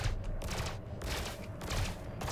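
Ship weapon fire in Elite: Dangerous during bounty hunting, a faint series of rapid, rhythmic bursts repeating at about half-second intervals.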